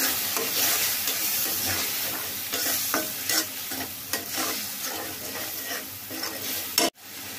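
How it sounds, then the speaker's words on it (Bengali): Green chilies stirred into ginger and garlic paste in a frying pan, a steady close scraping and soft sizzling that runs throughout and stops abruptly near the end. "এখন কয়েকটা কাঁচামরিচ দিয়ে নাড়িয়ে নিচ্ছি।"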